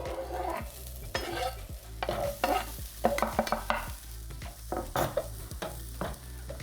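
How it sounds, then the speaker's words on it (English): Vegetables sizzle in a hot, slightly smoking pan with no oil while a utensil stirs and scrapes them in irregular bursts, close and fairly quiet, with no talking. "While that's all frying away at a medium to low heat and just starting to brown"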